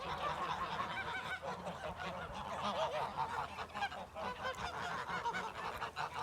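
Geese on a snowy farm honk loudly and continuously, their overlapping nasal calls close by and filling the whole stretch, with no talk over them.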